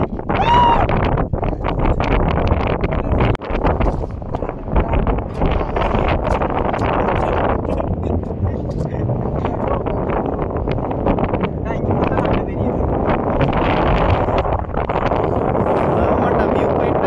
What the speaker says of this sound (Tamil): ஏதோ காத்தடி. என்ன காத்து சாமி